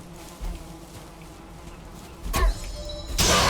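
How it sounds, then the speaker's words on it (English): Bees buzzing around a beehive in the survival game Valheim, a steady insect hum that swells louder near the end, with no speech. "There is more bees right here."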